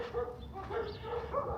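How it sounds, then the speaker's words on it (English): Several dogs bark repeatedly from inside a building in a quiet desert town, muffled and moderately distant, with the yaps overlapping in an uneven rhythm. "And here's some dogs in there."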